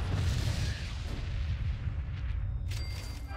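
In the Fallout Shelter video game, Fat Man launchers fire with a heavy rumbling boom that rolls out and decays, followed by a few faint sharp game effects near the end.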